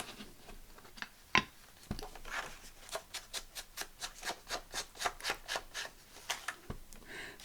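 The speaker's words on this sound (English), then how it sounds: "Right, so I want to ink around here." An ink blending tool is rubbed around the edges of paper for a mini album junk journal: a steady run of about a dozen quick, rhythmic brushing strokes, close and fairly soft, after a few scattered taps.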